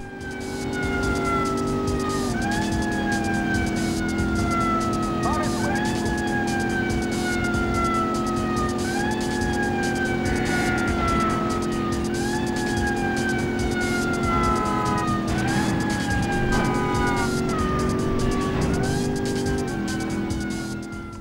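Police car sirens from the video game Driver 2 wail in repeating rising and falling sweeps over a steady car engine drone, loud and constant throughout.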